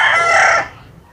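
A gamecock crows once at a mountain game farm, loud and close, its call lasting just over half a second before fading into quiet.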